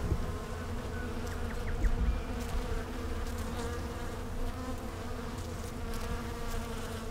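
Bees working almond blossoms during the Australian almond pollination season, a steady dense buzzing hum from many insects, close and continuous with no voices.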